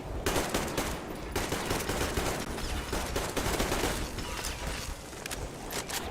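Gunfire rattles through a battle in the video game Metro Exodus, with dense, sustained bursts of rapid shots and mechanical clatter filling the scene at a loud, steady level.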